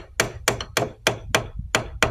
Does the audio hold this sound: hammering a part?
yes